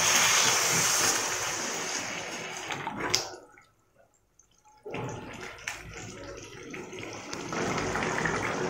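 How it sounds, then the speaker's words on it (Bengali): Hot water poured into a cooking pan of jackfruit and prawn curry, a close, steady splashing gush with a brief pause midway before it resumes. "এবার আমি দিয়ে দেবো জল, আর আমি এখানে কিন্তু গরম জল ব্যবহার করেছি"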